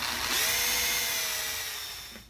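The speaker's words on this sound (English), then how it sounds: "Drill a hole for your control switch" A power drill whines steadily at high speed, close and loud, then winds down as it stops, drilling a hole for a heated seat control switch in a car.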